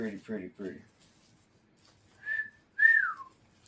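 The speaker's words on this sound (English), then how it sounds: "ain't that how you whistle when something's pretty?" Two rising-and-falling whistles from a man admiring a pretty card, heard close and clear after brief speech at the start.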